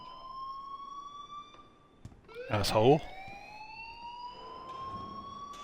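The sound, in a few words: alarm ringing in Life is Strange video game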